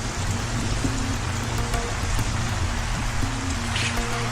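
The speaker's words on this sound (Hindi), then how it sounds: "बहुत भारी बरसात है।" Heavy rain pours down in a steady, dense hiss with a faint low hum running underneath, continuous and fairly loud throughout.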